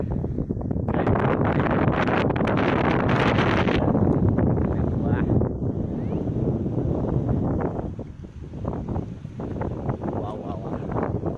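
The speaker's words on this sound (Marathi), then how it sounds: "वारा खूप जोराचा आहे म्हणून आवाज असेल कदाचित" Strong seaside wind at Dahanu buffets the microphone in loud, rough gusts that ease a little toward the end, with a voice talking underneath.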